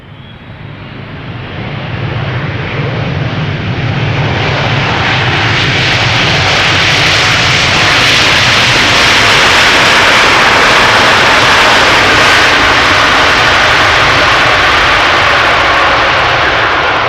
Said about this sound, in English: And after that another triple, 777-200 arriving from Houston.